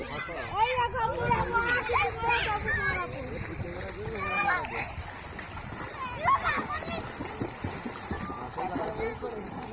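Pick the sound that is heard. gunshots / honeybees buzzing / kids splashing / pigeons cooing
kids splashing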